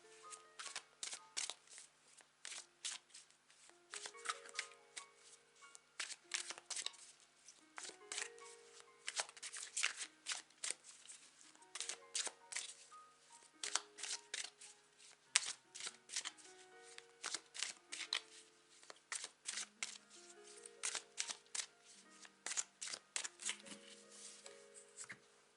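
Tarot cards are shuffled repeatedly over a long stretch in soft, close bursts of riffling and flicking, broken by brief pauses. No one speaks.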